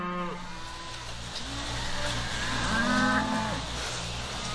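Cows on a large US family farm with 800 animals kept on sand bedding moo several times, long drawn-out calls at varying distances over a steady low background hum.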